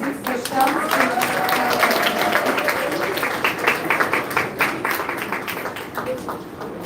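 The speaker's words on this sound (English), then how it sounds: "we have a round of applause for your sister Shams?" A school audience at a girls' Year 6 transition ceremony claps, a crowd patter that starts dense and loosens into scattered individual claps, with voices talking underneath throughout.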